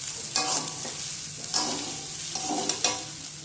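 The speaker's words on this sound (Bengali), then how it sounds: "একটু ভালো করে নেড়ে চেড়ে ভাজতে হবে।" Boiled vegetarian chow mein being stir-fried over a medium flame in a pan gives a steady close sizzle, broken by several sharper scraping and stirring strokes at irregular intervals.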